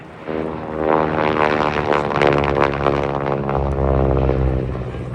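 A 1954 Canadian Car and Foundry propeller aircraft flying a display at an air show, a loud, close, buzzing piston-engine drone that rises and falls as it passes overhead for several seconds.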